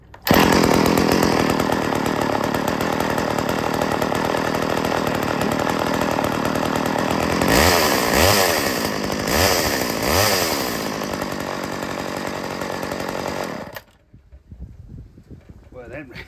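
Poulan 2000 chainsaw engine running loud and steady close by for about fourteen seconds, with a few revving surges partway through, then cutting off abruptly into quiet room noise.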